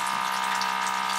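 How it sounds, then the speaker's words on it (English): Water pump of a LetPot 4-in-1 smart hydroponic system running close by, a steady electric hum with a soft trickle of moving water, constant and alone. "You are gonna hear that pump because that pump's quite a bit stronger."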